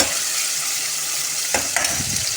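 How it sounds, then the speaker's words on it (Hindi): Fenugreek seeds crackle in hot oil for a Pakistani achari potato and aubergine dish, a steady sizzle with a couple of sharp stirring clatters near the end, no voices. "ये भी आप साथ ही ऐड कर देंगे ताकि ये भी फ्राई हो जाए"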